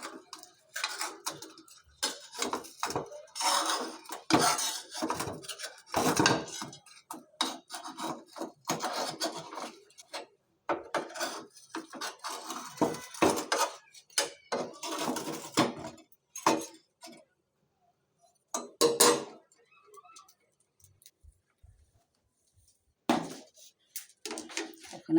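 Metal spatula scraping and clattering in a pan while cooking kachikhecha pitha, a winter rice cake, in irregular bursts of rasping strokes with brief pauses, close and moderately loud, no talking.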